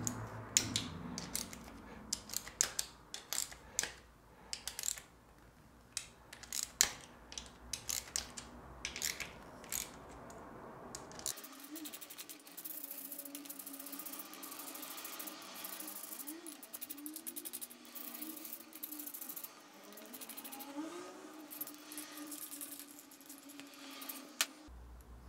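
Ratchet loosening the 8mm crank cover bolts on a Triumph Tiger 800, heard as a run of close, sharp clicking ticks in the first half, followed by quieter mechanical fiddling.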